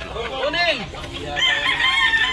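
A yellow-legged gamecock at a Cebu rooster sale crows once, close and loud, with a sweeping rising-then-falling call, while someone talks over it and other birds and crowd noise fill the background.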